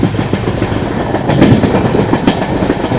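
The Thirukkural Express rolls along wet rails during rain, its wheels producing a loud, continuous rhythmic clatter heard from inside the train.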